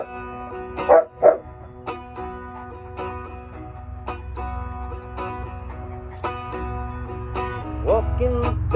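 A big fluffy dog barks outdoors in the sun, giving two sharp, close barks near the start and another a few seconds later over a steady musical background.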